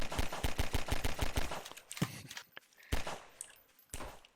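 Pistol shots in the video game Zen Killers, a rapid run of sharp close cracks at the start followed by a few scattered louder shots with quieter gaps between them.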